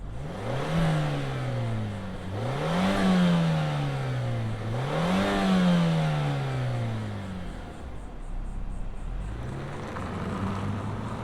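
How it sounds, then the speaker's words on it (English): Turbocharged four-cylinder engine of a 2025 Mazda CX-50 in top trim, revving repeatedly in three rising-and-falling sweeps, loud and close, then settling back to a steady idle. "let's fire up this 4-banger turbo and hear what it sounds like."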